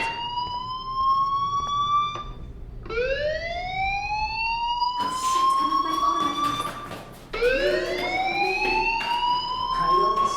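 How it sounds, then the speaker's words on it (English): Fire alarm in the video game Life is Strange: repeated rising electronic siren sweeps that swell, hold and restart, loud and steady throughout with no talking. "do you hear that fire alarm?"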